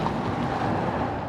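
Wind on a warm, windy spring day in Swift Current, Saskatchewan: a steady, loud, broadband rush with low buffeting that stays constant throughout, with no voices.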